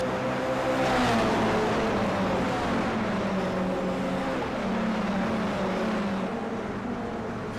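Several race cars drone around Oulton Park in the iRacing simulator, a steady loud mix of engines with pitch sweeping up and down as cars pass, no voices.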